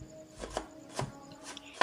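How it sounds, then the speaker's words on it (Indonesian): Garlic and shallots are sliced with a knife, several close, crisp cuts landing on a cutting board at an uneven pace with short pauses between strokes. "Semua bahan mau kita iris-iris"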